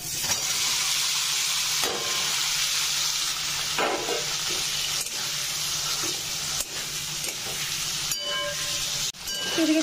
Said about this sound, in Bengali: এবার পনির কিউবগুলো ভেজে নেব।